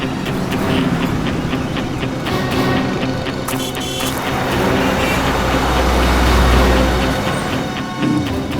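A motorbike engine runs with a steady, rough rumble that swells into a deeper, louder drone toward the end, heard alone without voices.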